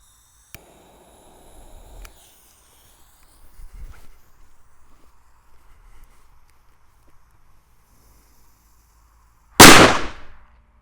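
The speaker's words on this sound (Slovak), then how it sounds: "Veľmi pekný výbuch." A single Exploder firecracker goes off with one sharp, loud outdoor bang near the end, preceded by faint rustling and small handling noises in near silence.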